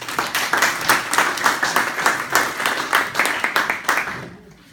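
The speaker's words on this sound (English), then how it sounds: "they deserve a round of applause for both of you" A small audience at a supplementary school award ceremony claps, close and lively with irregular handclaps, for a few seconds before fading out.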